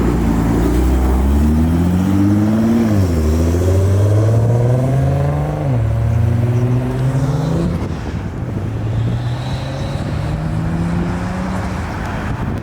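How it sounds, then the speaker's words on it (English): A Roush Razorback accelerates hard past onlookers at a car meet, its engine loud and close, climbing through gears with quick shift dips before the roar fades into traffic noise. "So that last car is actually a Roush Razorback."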